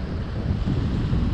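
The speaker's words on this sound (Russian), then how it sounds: "Капец, ветер сильный." Strong north wind buffets the microphone beside a carp-fishing spot on a stormy shore, a loud, continuous low roar with gusty surges throughout.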